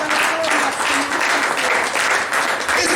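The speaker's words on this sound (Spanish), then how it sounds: "¿Cuánto le pueden dar una ofrenda de palmas a Jesús, hermano?" Congregation in a church giving loud, sustained applause, a dense crackling wash of many hands clapping continuously, with voices mixed in beneath.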